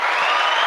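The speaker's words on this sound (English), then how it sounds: "Can I get a round of applause" A short burst of applause from an audience, dense clapping heard close and loud for under a second.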